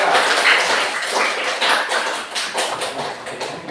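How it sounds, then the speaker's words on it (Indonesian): A classroom audience applauds a student group after its presentation, with dense, continuous clapping from many hands, fairly close and loud, and no talking over it. "Kita kasih aplaus dulu untuk kelompok 3"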